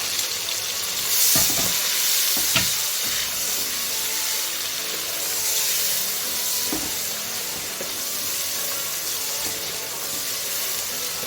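Tomatoes dropped into ginger-garlic paste frying in a pan, giving a steady close sizzle and hiss with a few stirring knocks against the pan and no talking.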